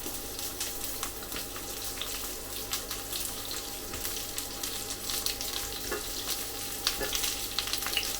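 Ordinary onions hit shimmering hot oil for a king prawn chow mein, giving a steady, close crackling sizzle with scattered sharper pops and some stirring, with no voices.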